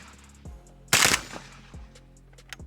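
A Krebs M23 AK rifle fires double taps at a 50-yard range: loud, sharp paired gunshots ringing out, with a dominant crack near the middle and softer reports on either side.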